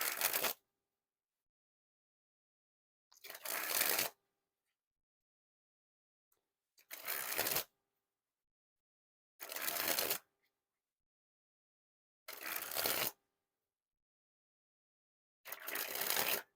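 Organic Squeezers playing cards springing from hand to hand in six short rattling bursts, each about half a second to a second long, separated by silent pauses, close and clear.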